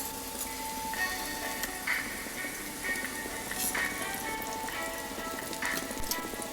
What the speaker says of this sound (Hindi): अब इसी ऑयल में हम अपनी भिंडी फ्राई करेंगे